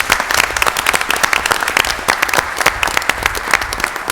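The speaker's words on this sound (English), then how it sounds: "I think we owe him a round of applause" Steady, dense applause fills a city council meeting chamber in Mobile, Alabama, honoring a retiring assistant chief with 37 years of service. Many hands clap loudly and evenly throughout, with no talk over it.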